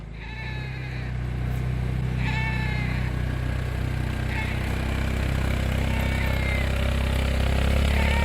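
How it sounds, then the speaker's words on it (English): A goat riding in a motorbike sidecar bleats three or four times in wavering calls, clear over a loud, steady low engine rumble that grows slightly louder. "Freaking goat riding in the moto."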